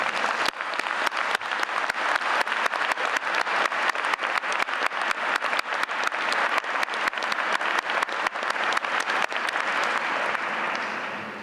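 A large graduation audience at a Duke executive MBA ceremony applauds in a long, dense, steady round of clapping that stays loud and even for about eleven seconds before easing slightly at the end.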